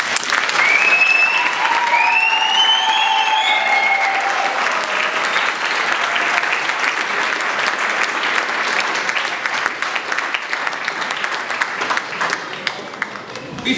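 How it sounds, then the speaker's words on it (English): Sustained applause from a large audience at a cadet squadron's annual presentation evening in a barracks hall, steady and dense throughout and tapering slightly toward the end, with brief whistles and faint voices in the opening seconds. "And big round of applause."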